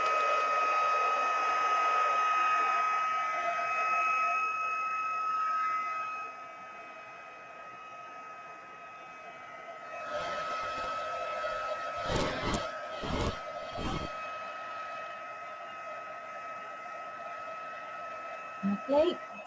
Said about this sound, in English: You can use a hairdryer, I've got like a heat gun thing,